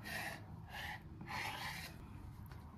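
A knife cuts yufka pastry dough in half with faint, close, rhythmic scraping strokes, several soft rasps in quick succession in a quiet kitchen.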